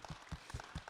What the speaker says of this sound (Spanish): Un pequeño aplauso para nuestros invitados.